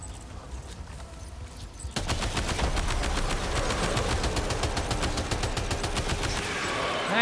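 Rapid automatic gunfire in Death Stranding 2 starts about two seconds in, a dense, steady burst of shots that continues loud and unbroken to the end over low ambient game noise.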